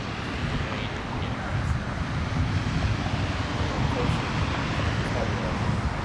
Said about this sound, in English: there's more wind than I think I was giving it credit to